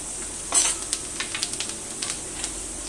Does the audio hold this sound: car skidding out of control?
no